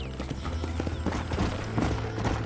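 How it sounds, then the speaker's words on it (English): Horse hooves clip-clop rapidly in Red Dead Redemption, a steady galloping rhythm with a brief whinny, set against a busy game soundscape with no talking. "Whoa, whoa, horse!"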